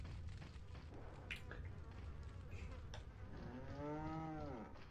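A cow in the video game Resident Evil 4 gives one long, low moo near the end, set against a faint buzzing, insect-like ambience.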